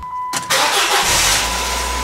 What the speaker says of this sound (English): we're going to start the car and put it in gear and give a listen